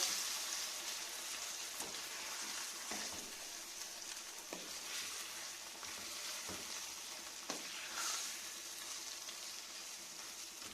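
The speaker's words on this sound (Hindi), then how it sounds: "हमने तड़के के साथ साग को मिक्स कर दिया" Saag stirred into a sizzling tomato and green chilli tadka in a pan, a steady frying hiss with soft scraping stir strokes every second or so, close and alone.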